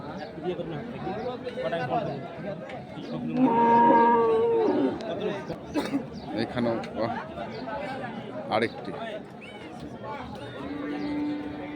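Cattle at a Chattogram livestock market lot ahead of Qurbani, with loud nearby moos and lowing rising over steady crowd chatter and people talking.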